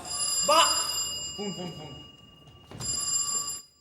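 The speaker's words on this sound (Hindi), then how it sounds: "फोन।" A telephone rings twice, the rings separated by a short pause, with a voice speaking briefly in between.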